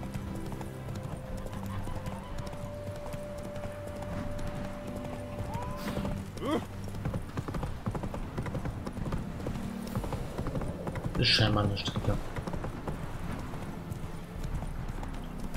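Horse hooves clip-clop in a steady rhythmic gait while riding in The Witcher 3: Wild Hunt, with a brief whinny partway through and someone talking over the hoofbeats.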